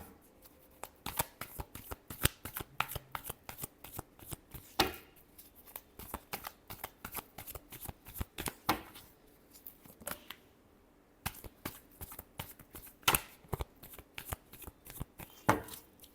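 Tarot cards being shuffled by hand in a fast run of crisp snapping riffles and soft taps, close and fairly quiet, with one brief pause partway through.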